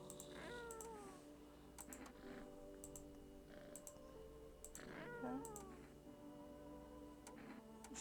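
A cat gives two faint, drawn-out meows several seconds apart, set against sharp keyboard-like clicks and tapping, and someone briefly speaks a single word.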